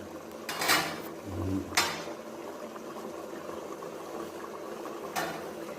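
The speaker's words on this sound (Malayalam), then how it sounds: "വെള്ളം തിളച്ച് തുടങ്ങി" Water coming to a boil in a pot for rice for chicken mandhi, a steady low bubbling texture under a few sharp clinks of utensils against the pan, close by with no talk.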